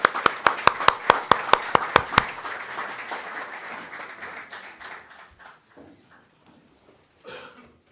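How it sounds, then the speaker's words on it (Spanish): A small conference audience at a local history event on sugar mills claps, starting with a few loud, distinct near claps that soon blur into scattered applause, then fade into coughs and quiet shuffling. "Un aplauso para don Rafael."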